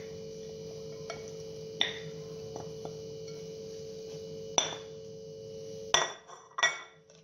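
A utensil stirs food with onion in a dish, giving a few sparse clinks and taps against a steady low background hum, with a brisker clatter of strokes near the end.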